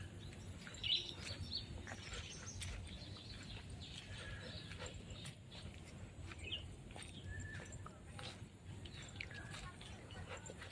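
Parrots call at an organic farm in Singapore, giving faint, scattered chirps and squawks over a steady, noisy outdoor background with a hint of voices.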